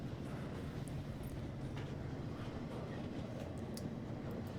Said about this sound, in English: So there's the train, the infamous train shot.